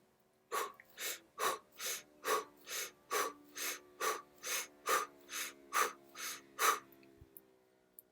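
Breathing exercise paced to squeezing and releasing an object: about fourteen sharp, evenly spaced breaths, close and fairly loud, each a short forceful inhale or exhale with brief gaps between, and no talking.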